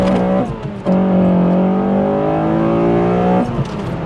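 Honda Accord Euro R CL1 engine pulling hard under full throttle, a loud close revving note with harmonics rising steadily in pitch, a brief dip near one second like a shift, then continuing to climb before easing off.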